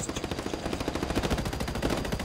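Rapid, continuous automatic machine gun fire from the video game Ghost Recon Wildlands rattles in a fast steady rhythm, loud and dense throughout with no pauses.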